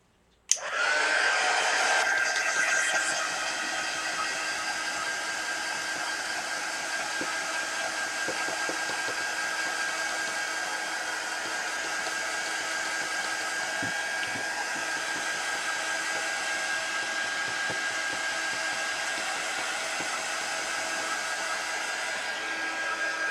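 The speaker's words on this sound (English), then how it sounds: "let's get the heat gun out and dry." A heat gun switches on with a sharp click and blows a loud, steady whine and rush of air while drying mixed media artwork, running unbroken for over twenty seconds.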